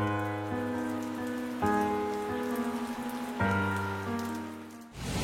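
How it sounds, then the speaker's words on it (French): Rain falls steadily with a constant wash of drops, mixed with a sustained droning tone that shifts pitch now and then, and no voices, before cutting off at the end. "comme vous pouvez le voir il pleut"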